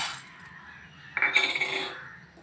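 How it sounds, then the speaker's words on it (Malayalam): Toor dal and urad dal roasting in a pan in a home kitchen, a quiet stretch, then a burst of light metallic clinks and rattles from stirring midway before fading back down. "തുവരപ്പരിപ്പും ഉഴുന്നുപരിപ്പും ഒന്ന് വറുത്തെടുക്കാം."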